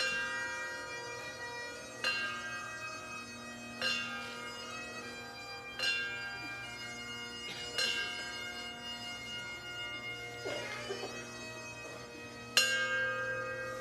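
A funeral bell for a law enforcement officer tolls slowly and steadily, one ringing strike about every two seconds, each leaving a long resonant hum that lingers under the next, with no talking.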